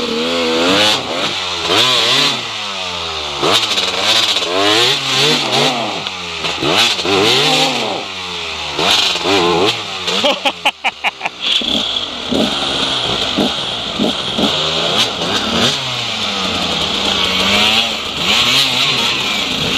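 A small off-road motorcycle revs hard on a rough track, its engine whining up and down in repeated surges, then sputtering briefly before roaring again, loud and close throughout.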